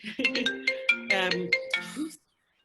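A melodic phone ringtone plays alone, a bright repeating chime pattern of short tones lasting about two seconds before cutting off to silence.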